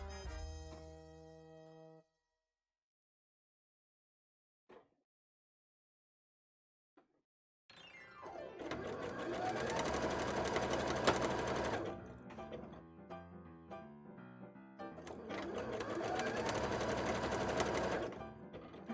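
A sewing machine stitches layers of a cosplay petticoat. A short whir comes first, then near silence with a couple of faint clicks, then two long, loud runs of fast stitching close by.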